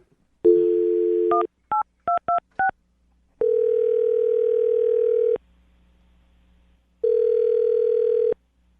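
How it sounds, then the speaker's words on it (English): A telephone line gives a steady dial tone, then a quick run of short touch-tone beeps as a number is keyed, followed by two long ringback tones separated by silence, all clean and close. "I'm going to dial the phone number"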